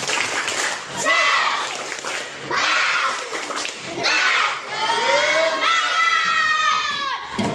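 Classroom students doing a rhythmic spirit-clapping chant at the end of a lesson, shouting in bursts with claps, loud and close, children's voices overlapping.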